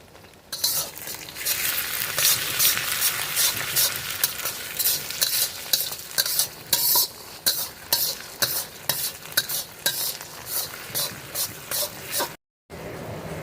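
Onions fried reddish brown and ginger garlic paste with green chillies fry in a pan for mutton curry, a continuous sizzle broken by repeated scraping strokes of a spoon stirring.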